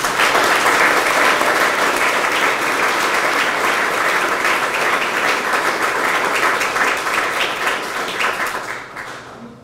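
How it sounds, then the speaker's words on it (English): A crowd at a USL club announcement for Loudoun United FC and DC United breaks into loud, sustained applause, a dense wash of clapping that holds steady before fading out near the end. "another round of applause for Jason and DC United"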